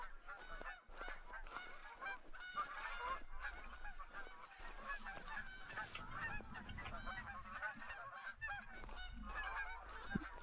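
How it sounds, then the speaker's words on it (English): Geese honk repeatedly in theHunter: Call of the Wild, a dense, overlapping chorus of calls from a flock at moderate distance, continuing steadily over an evening outdoor backdrop with no talking. "Okay, just some kind of geese."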